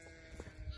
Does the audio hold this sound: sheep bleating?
yes